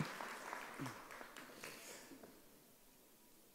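A seated audience gives a scattered, fairly faint round of applause welcoming a speaker at a tax seminar, the clapping fading out toward the end.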